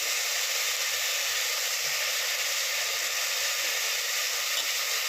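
Lentils frying with tomato in a pan give a steady, close sizzle, an even broadband hiss that runs unbroken for the whole stretch with no talk over it.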